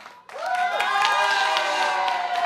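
Candidate supporters in a television studio clap and cheer for their ticket, a dense sustained burst that starts abruptly after a short quiet moment, with ringing tones and a voice mixed into the crowd noise.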